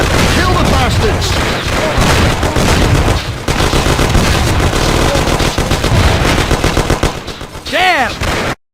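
Gunfire rattles through a Mafia video game cutscene in loud, sustained machine-gun bursts and repeated shots, with shouting voices mixed in and a short pause near the middle.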